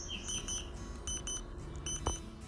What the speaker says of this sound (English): almost immediately the air monitor started beeping, and it eventually maxed out our air monitor